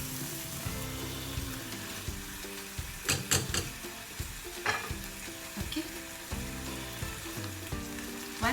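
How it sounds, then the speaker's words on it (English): Steady sizzling of beef pepper fry with tomatoes frying in hot oil, with occasional stirring clatters and scrapes, close and continuous throughout. "Once you see that it starts frying well and the oil starts coming out"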